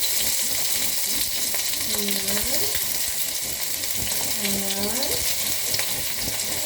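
Onion and garlic frying in a pan, giving a steady bright sizzle with a few soft stirring scrapes and some faint background noise, and no talking.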